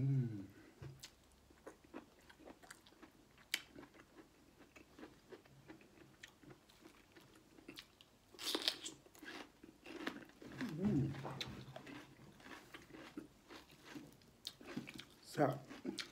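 Someone eats spicy Lao khao pun noodle salad with fresh vegetables and mushrooms, producing close, wet chewing and soft crunching in irregular bursts while a person talks over it.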